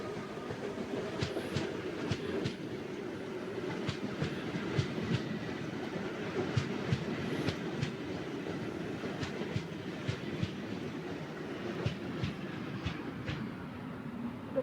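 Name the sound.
train running over rail tracks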